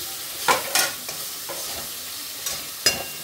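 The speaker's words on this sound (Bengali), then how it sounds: "এবারে টমেটো দিয়ে দিলাম এর মধ্যে।" Chopped tomatoes go into a hot pan of ghee for a vegetarian sago khichuri, giving a soft steady sizzle broken by a few sharp scraping stirs of a spoon against the pan.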